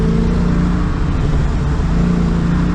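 A Dodge Challenger Hellcat fitted with a K&N Typhoon cold air intake, giving a loud, steady low-RPM engine rumble with a deep droning tone, close by from inside the car.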